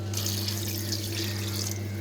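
Water pours steadily into a pot of garlic tamarind curry (kuzhambu) with a continuous splashing stream over a low hum and no talk.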